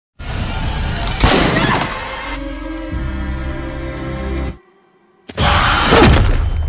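Gunfire from The Walking Dead series, season 11: two sharp, loud shots, one early and one near the end, separated by a tense, droning passage and a short silence.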